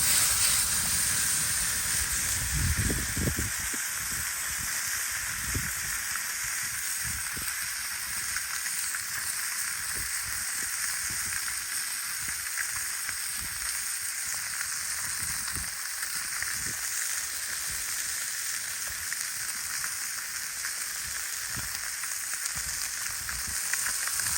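Steelhead fish sizzles in butter in a pan over a small fire outdoors in winter, a steady close frying hiss that lasts throughout with occasional crackles and pops and no talk.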